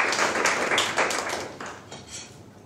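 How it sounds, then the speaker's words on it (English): A short round of audience applause at a Knights of the Southern Cross God & Beer event in Melbourne. The dense clapping is loud at first, then thins and fades out. "Can we give a round of applause for the Knights of the Southern Cross?"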